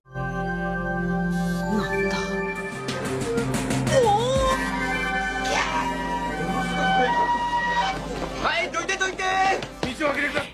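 An ambulance siren wails through a street scene where a 14-year-old boy lies among a crowd, partly buried under loud music and overlapping voices.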